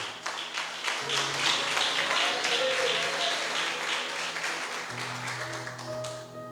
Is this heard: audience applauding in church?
yes